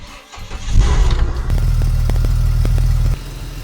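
A Ford Territory engine cranks briefly, catches and settles into a steady low idle, loud and close with a few faint clicks over the rumble.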